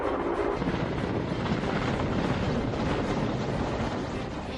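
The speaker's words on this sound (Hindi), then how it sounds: "जंगलों में भी लगी आग को बुझाने के लिए हेलीकॉप्टर की मदद ली जा रही है, जो भीमताल झील से पानी लेकर जंगलों पर छिड़काव कर रहा है" Helicopter flying over Bhimtal lake, drawing water to spray on a forest fire, heard as a steady, broad rotor and engine roar with wind rumble, constant and moderately loud throughout.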